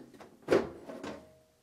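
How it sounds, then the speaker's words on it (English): A desktop PC case being opened up, the panel giving a scraping knock followed by a couple of softer sliding bumps, close by and brief, with no talk. "I'm gonna open up the PC"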